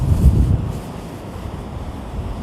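Cool wind gusting outdoors on the coast around Monterey and Big Sur, a steady low rumble with a stronger buffeting burst at the start, heard without any talk.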